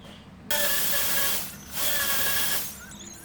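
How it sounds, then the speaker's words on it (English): A power drill whirs in two sustained bursts while drilling holes in a wall, with a brief pause between them, steady and fairly loud, with a faint tonal whine. "Now I'm going to go ahead and drill the holes."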